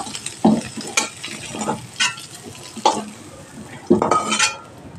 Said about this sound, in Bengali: ফুলকপি ভাজাও হয়ে গেছে, একটা পাত্রে আমি তুলে নেব।